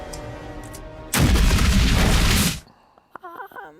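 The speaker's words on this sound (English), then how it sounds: "We have 6 Japanese missiles inbound. Launch intercept missiles." Movie missiles launch and explode in one loud, sustained roaring blast of about a second and a half, then cut off abruptly and leave a few quieter sounds and faint voices.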